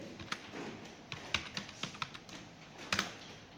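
Rapid clicking of a computer keyboard while code is typed, with uneven bursts of close, crisp keystrokes and a few harder taps, and no speech over it.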